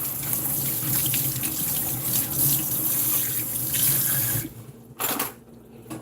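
Corn being washed under a running kitchen tap, a steady loud stream of water splashing into a sink that stops and sputters briefly near the end.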